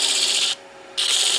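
Resin circuit-board pen blank rubbed against sandpaper: a steady, close, hissing rasp that stops for a short pause, then resumes just as loud, with no voices.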